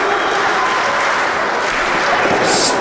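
Kingston wrestling event crowd applauding and cheering, a dense steady wash of clapping and noise that stays loud from start to finish.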